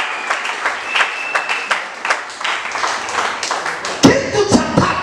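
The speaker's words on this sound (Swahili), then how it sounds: "Tuchapie mtafsiri wetu makofi mengi sana." Indoor church audience applauding the translator at a sermon, a dense run of clapping with sharp individual claps standing out, growing louder and fuller near the end.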